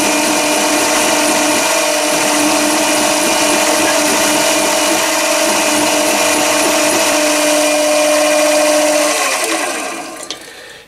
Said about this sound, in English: It's surprising what you can do with a file on a lathe like this if you're careful.